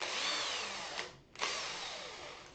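A cordless power drill whirs steadily at close range, cutting out briefly for a moment before spinning up again at a high whine, with no talking.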